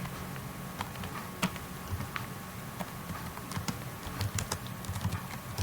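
Computer keyboard keys clack steadily as ABAP code is typed, a quiet, close patter of irregular taps with occasional firmer strokes and no talking.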